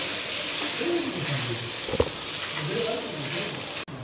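Boiled, mashed potatoes are mixed in a hot pan with frying spices, giving a steady sizzle with soft stirring scrapes and one sharp clack, while a voice murmurs faintly underneath.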